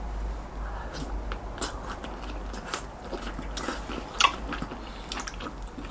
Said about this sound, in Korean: 근데 닭발부터 먹을래요